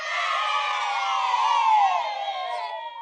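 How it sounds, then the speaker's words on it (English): A crowd of children cheers and whoops together, a dense, continuous bright roar of young voices that holds steady for a few seconds before tapering off. "All the children cheer for Hermione."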